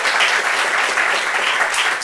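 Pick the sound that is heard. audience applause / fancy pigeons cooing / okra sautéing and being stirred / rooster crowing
audience applause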